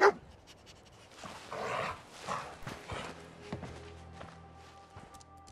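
Dogmeat the dog in Fallout 4 pants and sniffs close by in short breathy bursts, with light footstep-like taps after a sharp opening thump.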